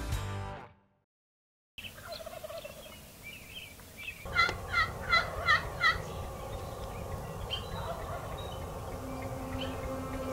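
A wild turkey gobbles several times in quick succession in the Wyoming woods during a spring hunt, the calls loud and fairly near, followed by steady outdoor background noise.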